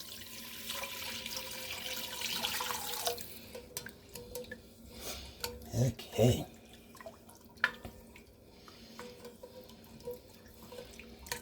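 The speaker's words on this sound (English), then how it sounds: "Now pour in your beef broth." Beef broth pours into a stew pot in a home kitchen, making a liquid splashing and trickling sound that swells briefly in the middle, with a short spoken word and light kitchen clatter around it.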